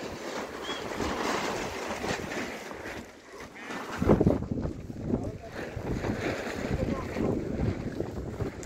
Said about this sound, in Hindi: बहुत तेज हवा है भाई, यहाँ